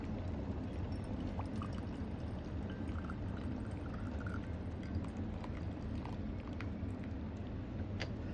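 Water pours steadily over Phoenix Dancong duck-shit-aroma oolong tea leaves to rinse them, a soft continuous trickle and splash, fairly faint and without talk.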